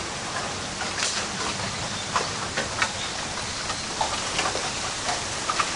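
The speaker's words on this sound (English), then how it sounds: "The rustling of the leaves and the clacking of the stems create a refreshing harmony of sounds." Wind moves through a stand of bamboo in early summer in a Japanese woodland, giving a steady broadband rustle of leaves. Irregular light clicks and clacks of stems come through it, with no talk.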